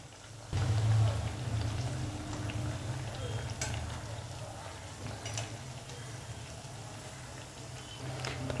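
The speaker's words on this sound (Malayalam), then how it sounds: "ഒരു മീഡിയം ടു ഹൈ ഫ്ലെയിം വെച്ചിട്ട് ഫ്രൈ ചെയ്തെടുക്കാം" Cabbage pakoda fry in hot oil over a medium-high flame, giving a steady low bubbling and sizzling hiss that continues throughout with a few faint clicks.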